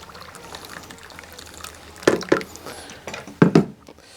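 Hot water poured into a container to dissolve sugar and salt for a ham brine, with two short splashy bursts of pouring standing out clearly over a quiet background.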